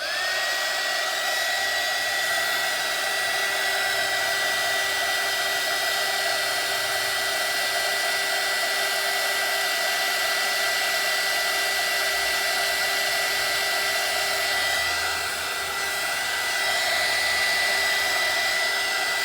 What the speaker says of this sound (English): I'm actually gonna hit it with the blow dryer for 1 second.